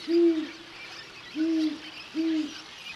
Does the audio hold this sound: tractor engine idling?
no